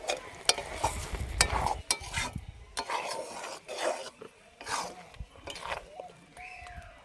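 Fried spices being stirred into a jujube (kul) pickle, with repeated close scraping and clinking of a spoon against a pot in an uneven rhythm, faint sizzle-like texture beneath.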